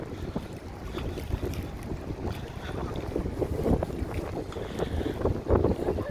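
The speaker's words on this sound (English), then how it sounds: "It's a little bit windy, so hopefully you can hear me." Gusty wind buffets the microphone at the Chicago lakefront, a rough, fluttering roar that rises and falls continuously and swells louder toward the end.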